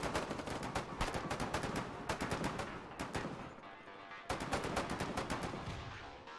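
Field machine gun fire in the war video game Foxhole, rapid loud bursts of shots with short gaps between them, plus a longer pause near the end before firing resumes.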